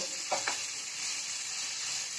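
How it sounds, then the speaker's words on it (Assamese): Gentle continuous sizzling of onion, ginger and garlic frying in oil, with a couple of brief stirring scrapes near the start, quiet and close. "অকণমান পিঁয়াজ, আদা নহৰু সকলোখিনি একেলগে মিলাই দিলোঁ। মিলাই অকণমান ৰঙচুৱা কৰি ভাজিব।"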